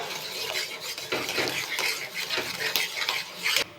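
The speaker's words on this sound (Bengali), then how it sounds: "তেলটা গরম হয়ে গেছে, ডিমটা দিয়ে দেবো।" Eggs going into hot oil in a pan for an egg burger, with close, steady sizzling and frying under scraping and clinking of a utensil against the pan.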